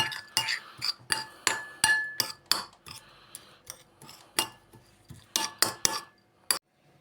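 A utensil clinks and scrapes repeatedly against a bowl in an uneven rhythm, close and fairly loud, mixing potato dough with oil and dill by hand.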